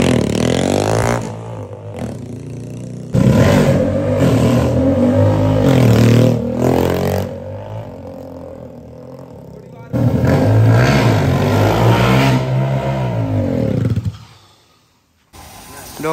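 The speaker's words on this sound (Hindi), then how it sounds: "लो मैं तो ट्रैक्टर आपां अंदर लाता" John Deere tractor engine revving as it is driven in, loud rumbling bursts rising and falling with clattering, a pause midway, then fading out near the end; talk occurs alongside.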